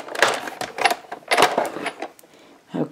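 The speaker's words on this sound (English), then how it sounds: "I'm going to just crank this through." A Big Shot die-cutting machine being hand-cranked with an embossing folder passing through, giving a series of uneven mechanical clicks and grinding bursts close by, with brief pauses between turns.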